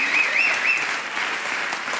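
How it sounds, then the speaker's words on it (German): A live television studio audience claps steadily after a performance, a dense, even burst of applause heard close and fairly loud throughout, with a faint voice underneath. "Hast du jetzt gemerkt, wie ich noch mal einen Applaus rausgeholt habe durch eine Ansage, die ich vorhin vergessen habe?"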